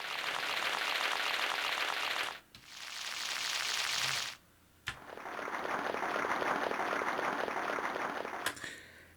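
Synthesized applause sample from a BlackStar Carry-On 88-key folding digital piano: three bursts of dense clapping separated by short breaks, steady and fairly loud, with no talking.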